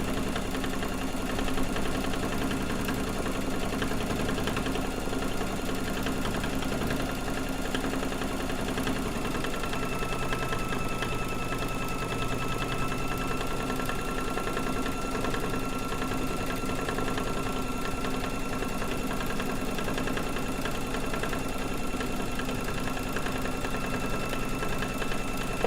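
A domestic sewing machine runs steadily during free motion quilting of feathers, giving a continuous mechanical hum with a fast buzzing rhythm that holds an even level throughout, close and unbroken by speech.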